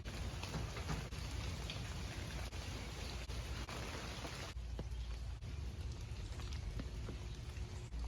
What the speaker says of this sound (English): we're having a pretty wet and rainy Sunday morning